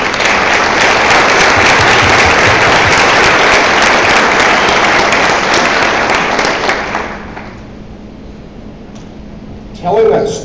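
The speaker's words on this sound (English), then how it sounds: "let's give him a big round of applause." A room full of people at a public discussion bursts into loud, dense applause that holds for about seven seconds, then fades away to near quiet, with a short burst of sound near the end.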